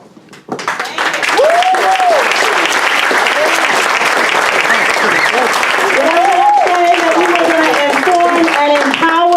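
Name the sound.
audience applause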